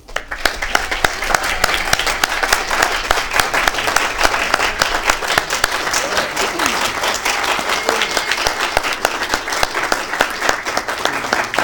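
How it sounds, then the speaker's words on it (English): Sustained applause fills a city council meeting in Downey as the room honors a soldier, steady dense clapping from many hands at a constant level throughout, with no voices rising above it. "Please join me with a round of applause for our soldier"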